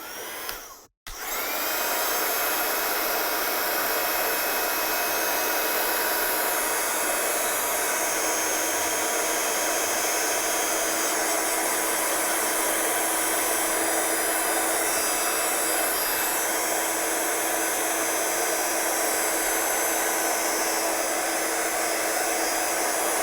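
A loud, close hair dryer blows a steady, unbroken roar to dry a craft painting, and after a brief cut near the start it runs on continuously.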